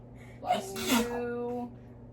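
One person sneezes once, close and fairly loud, with a gasping intake before the burst and a brief voiced tail after it.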